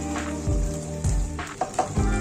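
Ground spices, including chilli powder, fry in a little white oil in a kadai for matar ghugni: a soft sizzle is broken by repeated low thumps and scrapes of stirring, with no one speaking.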